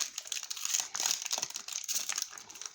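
Foil trading card packs are torn and crinkled open in quick repeated bursts, a close, continuous papery crackle with no talking.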